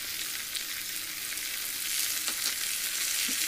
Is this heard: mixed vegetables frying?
yes